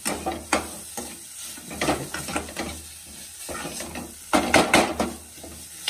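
Pumpkin halwa cooks in a pan as sugar is stirred in, with repeated scraping strokes and soft sizzling that come in uneven bursts, close and moderately loud.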